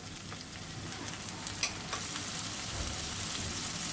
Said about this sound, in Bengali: এখন এই পেঁয়াজটাকেও একটু ভেজে দিব